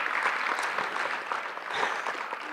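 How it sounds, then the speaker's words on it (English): Applause from an audience at an awards ceremony, a steady dense patter of many hands clapping that holds at an even level for a couple of seconds with no voices. "Absolutely, you can clap for that."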